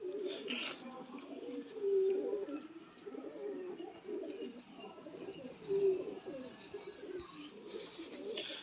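Pigeons coo in repeated low, throaty phrases at close range, interspersed with someone talking over them.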